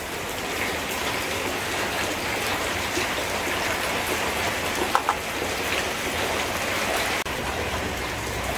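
Steady rain falls on a rural Vietnamese home during a buffalo blood-pudding meal, an even, dense hiss of drops on surfaces throughout with no break.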